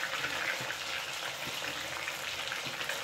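Fish kebabs coated in homemade masala fry in a pan over a slow flame, giving a steady, dense sizzle with faint crackles that runs evenly throughout, close and moderately loud, with no voices.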